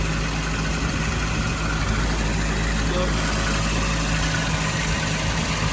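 Car engine running loudly and steadily after an exhaust manifold repair with rusted studs freed, a constant close rumble with fan noise throughout and a brief spoken word over it.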